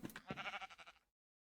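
A single video game sheep bleats once, a wavering nasal cry lasting about a second before cutting off to silence.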